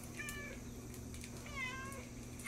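A cat begging at a door gives two distinct meows, one short and one longer and rising, close by over a quiet background hum.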